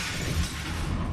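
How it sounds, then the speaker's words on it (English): Glass shatters in the video game Murdered: Soul Suspect, a dense, loud crash of breaking panes that fills the whole moment with jagged, scattering noise and no pause. "How come the sounds of Rick puking made glass shatter?"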